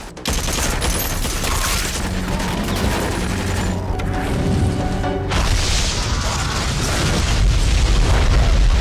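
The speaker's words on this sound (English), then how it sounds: "More explosions!" A relentless barrage of loud, booming film explosions and blasts, overlapping into a dense roaring wall of noise with only a brief dip before resuming.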